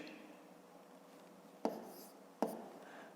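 Pen writing numbers on paper during a fifth-grade maths exercise, a soft scratchy scribble with two sharp taps of the pen, quiet and close in an otherwise hushed room.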